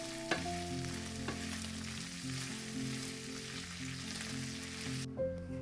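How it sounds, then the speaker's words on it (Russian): Minced meat fries with onion, dried garlic and parsley or oregano in a pan. A steady close sizzle carries a few scraping stirs near the start, then the sound cuts off abruptly near the end. "Теперь все перемешиваем и обжариваем до мягкости лука."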